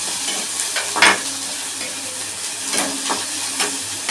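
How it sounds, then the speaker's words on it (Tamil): Green chilies fry in a hot pan for a Tamil-style semiya egg dosa, giving a steady close sizzle and hiss with a few louder stirring scrapes and spatters, and no voices. "பச்சை மிளகாய் போட்டு"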